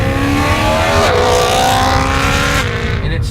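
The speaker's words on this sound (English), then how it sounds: "the fact that this V8 can get up that high, it wants you to rev it out." A modified BMW E92 M3 V8 revs hard and high, loud and continuous, with rising engine tones that climb, shift, and climb again over about three seconds.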